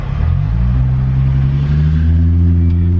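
A straight-piped Jaguar F-Pace S exhaust, loud and close, with a deep rumbling burble that holds steady and then climbs gradually in pitch as the SUV accelerates.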